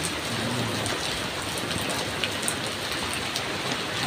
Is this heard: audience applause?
no